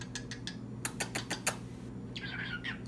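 A pet bird chirps and squawks indoors: a quick series of sharp tweets, then a short raspy squawk near the end, close and moderately loud with no speech.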